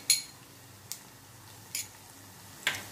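Metal spoon scraping and stirring ginger garlic paste in a kadai during frying, with four sharp clinks spaced about a second apart over a faint low sizzle.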